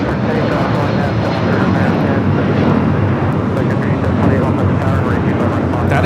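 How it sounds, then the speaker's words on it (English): A United Airlines Boeing 757-200 roars steadily during its takeoff roll at LAX, a loud, continuous broadband jet engine thunder that fills the whole stretch without letup. "2096 taking off to Newark on the 757-200"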